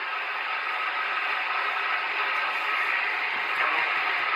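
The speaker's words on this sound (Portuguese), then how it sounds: "Só dando descarga de estática" Steady hiss of static discharge on an Alan 8001 CB radio, a dense crackling noise band that continues unbroken at an even, fairly loud level throughout.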